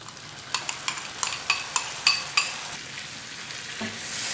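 Chicken frying in butter with a smooth paste just added for restaurant-style butter chicken, stirred in a pan: a steady sizzle beneath a run of distinct spoon scrapes and clinks, about nine strokes close by, then quieter simmering hiss.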